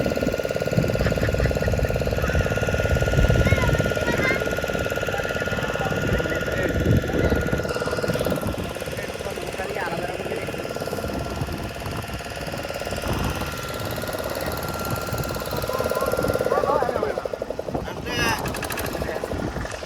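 Constant low rumble and chug of a fishing trawler engine running steadily at sea off a beach in the monsoon season, with voices talking over it.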